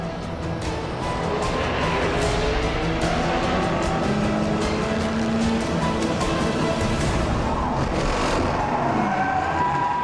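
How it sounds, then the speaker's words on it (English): Race cars, among them a Peugeot, speed around a circuit in a continuous loud roar of engines with passing surges and tire noise, no voices. "Dumas has moved up 2 positions and is closing in on the number 7 Peugeot"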